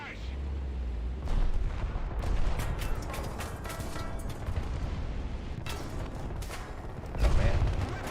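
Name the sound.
artillery barrage in the video game War Thunder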